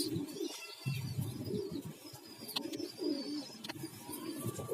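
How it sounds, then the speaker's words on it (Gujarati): Pigeons coo in a loft yard while a few birds take flight with a hawk nearby, the low, repeated cooing steady and fairly close over faint background noise, with occasional brighter bird chirps. "અને આપણા ત્રણ કબૂતર ઉડે છે"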